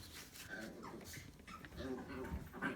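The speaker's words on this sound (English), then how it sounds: "You can hear the dogs playing in the background" Dogs play in the background of a room, giving soft whimpers and yips that sit faintly under the sound of a person talking.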